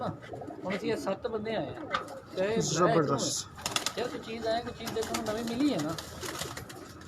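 Pigeons coo and flutter close by on a rooftop breeder's loft in Multan while someone talks over them, their soft low calls blending into steady chatter and background noise.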